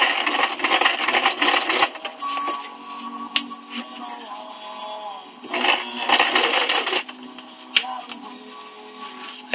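A home sewing machine stitches ruffle trim in several bursts of rapid mechanical whirring and clicking, separated by short pauses, heard close up.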